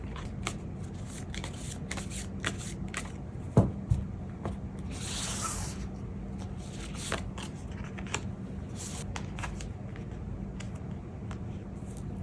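Tarot cards shuffled and drawn during a February fortune reading, a soft continuous papery riffling and sliding at close range with a few sharper card snaps, no talking.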